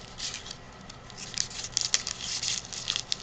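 Dictionary paper being crumpled by hand into paper flowers, a close, quiet run of crinkling and rustling with small crackly bursts that grow busier toward the end.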